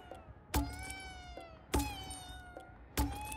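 A cat meows three times in the video game Ghostwire Tokyo, each call a clear, close, rising-and-falling cry spaced about a second apart with quiet gaps between.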